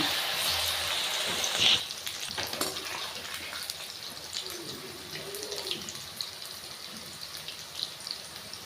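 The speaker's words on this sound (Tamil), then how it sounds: "கடாயில் எண்ணெய் நல்லா சூடானதுக்கப்புறம் காலிஃப்ளவரை கொஞ்சம் கொஞ்சமாக ஃப்ரை பண்ணிவிடுங்க" Cauliflower 65 pieces deep-fry in hot oil in a kadai, making a steady, rain-like hiss with a sharper crackle and clatter near the start. The frying then settles into a softer, bubbling sizzle, with no talk.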